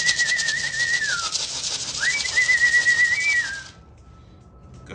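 A racing pigeon arrives home at the end of a 200-mile race, giving a close, steady whistling call over soft fluttering noise that stops abruptly near the end, leaving quiet.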